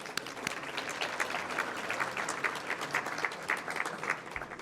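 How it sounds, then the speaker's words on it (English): An audience at a homecoming luncheon claps for a university jazz ensemble, a sustained, even patter of many hands heard from a moderate distance at low level. "I'd like to give a round of applause to the Case Western Reserve, to the jazz ensemble from the Case Western Reserve Music Department."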